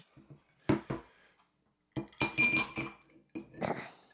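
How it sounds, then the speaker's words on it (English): Glass clinks and the knock of a bottle against a glass as a bourbon cocktail is poured, several short bright taps in uneven bursts with quiet gaps, close and fairly faint. "you want me to pour a little in the glass there?"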